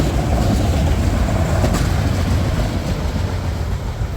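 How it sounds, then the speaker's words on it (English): Train of former BNSF SD70MAX diesel locomotives passing close by, a loud steady rumble with continuous rolling wheel noise and faint clatter throughout, no voices. "All 30 of these locomotives are former BNSF SD70 Max, keeping their original road numbers"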